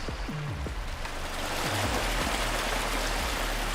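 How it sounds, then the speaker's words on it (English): In Farming Simulator 22, water streams steadily down a pipe on a forestry map, a continuous rushing flow, fairly loud and alone. "you can actually hear the water flowing down the pipe there as well"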